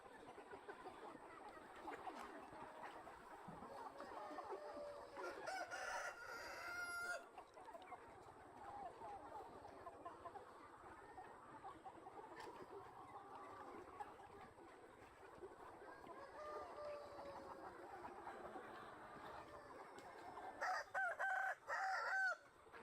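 Chickens and roosters on a farm of some 2,000 birds cluck steadily throughout, with crowing bursts rising over the flock around the middle and again near the end.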